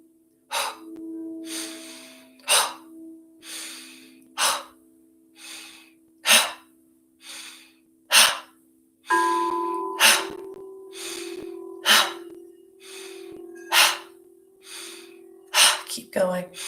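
A group takes deep breaths together during a guided meditation. Repeated loud inhales and exhales, roughly every two seconds, sound close and breathy, with a steady low hum underneath.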